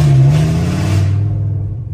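A car engine revs hard up close, a loud, sustained roar that climbs in pitch and then settles into a steady, heavy drone for about two seconds.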